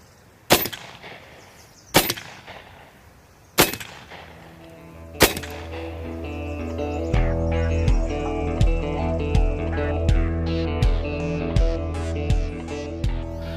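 An AirForce Escape airgun fires shots downrange, four sharp loud cracks spaced a couple of seconds apart, followed by a run of rapid repeated snapping impacts over a ringing, resonant background.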